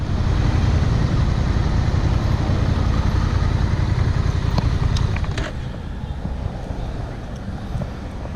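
A Honda Rebel 1100 motorcycle engine runs steadily with a deep, continuous rumble, loud and close throughout, easing slightly in the last few seconds.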